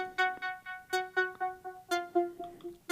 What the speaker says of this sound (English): that sound is a patch that I made with the analog synthesizer in Ableton